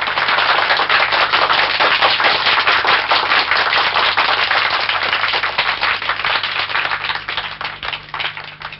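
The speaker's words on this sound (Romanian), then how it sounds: "Aplauze zguduitoare." A large crowd claps loudly and continuously, rapid overlapping hand claps that hold steady for several seconds, then begin to thin toward the end.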